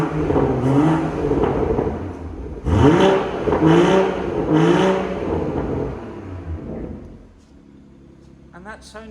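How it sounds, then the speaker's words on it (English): BMW M140i engine blipped with three sharp throttle revs that rise and fall, loud and close, then settling to a quieter idle near the end. "Before I end the video, I am just going to blip that throttle one more time."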